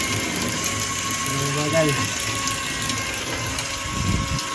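Homemade water pump driven by a 24 volt DC motor, running steadily with a continuous whir and gushing water close by, a voice talking over it.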